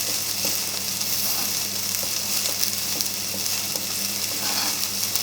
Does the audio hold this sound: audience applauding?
no